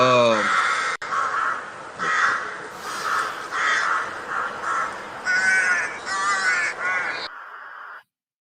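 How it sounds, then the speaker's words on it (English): Crows caw repeatedly from a played clip, loud harsh calls in rhythmic bursts before the sound cuts off abruptly near the end. "I wasn't trying to play the Crow video."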